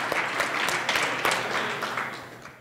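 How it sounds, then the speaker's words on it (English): Audience at a student open mic applauding a professor: a full burst of many hands clapping, close and even, gradually fading toward the end. "Big round of applause for Professor Rosen"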